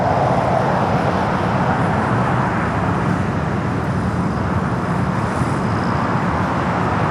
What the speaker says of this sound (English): We do have a United Dreamliner, Flight 212, coming up from Newark